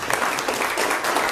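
Brief applause from a small audience at a talk held in a beer hall, a short patter of clapping hands at moderate volume with no voices over it.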